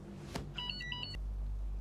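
A mobile phone rings with an incoming call, a short burst of bright electronic ringtone tones sounding moderately near and alone, with no voices.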